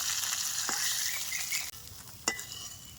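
Fried fish being lifted piece by piece out of sizzling oil, a loud continuous frying hiss with a few sharp utensil clicks, close, no talk.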